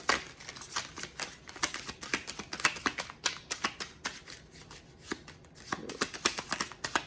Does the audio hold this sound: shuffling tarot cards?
yes